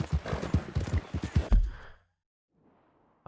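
Horse hooves clip-clop in the Red Dead Redemption 2 video game, a quick run of close, distinct hoofbeats that stops abruptly, followed by near silence and a faint bit of ambience.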